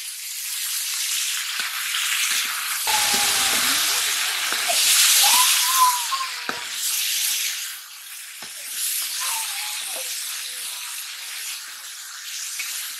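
Fish pieces drop into hot oil with sautéed curry spices in a village kitchen and set off a loud, bubbling sizzle that swells and eases over several seconds, with occasional light clinks and stirring.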